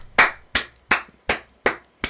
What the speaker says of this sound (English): the entire prison erupts into applause